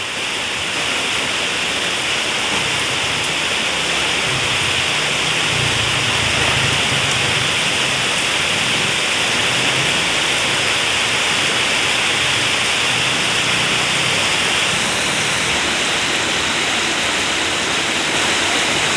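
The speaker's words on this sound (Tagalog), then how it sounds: "Bumuhos na ang ulan, lakas ng ulan." Heavy rain pours down in a dense, constant roar with no letup, loud and close throughout.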